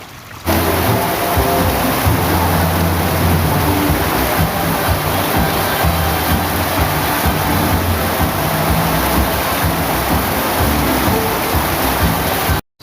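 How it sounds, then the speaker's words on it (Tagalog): Floodwater rushes in a loud, continuous roar and churn, close and unbroken throughout, with no voices over it. "dumami ang tubig oh biglang bulusok oh"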